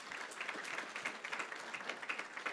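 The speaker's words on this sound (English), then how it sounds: "please give a round of applause" Brief audience applause at a community knowledge retreat gathering, a moderate patter of hands clapping heard from some distance, fairly even throughout its short span.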